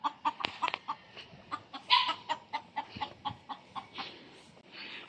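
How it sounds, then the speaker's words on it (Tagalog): Chickens cluck repeatedly in short, uneven bursts close by, with one louder squawk partway through and a faint background hiss. "Ay, may mga manok, oh."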